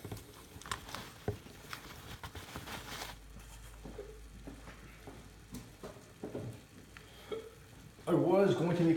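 Bacon frying in a pan gives a soft, low sizzle and patter under intermittent clatter and handling noises, with a louder burst of sizzling at the very end.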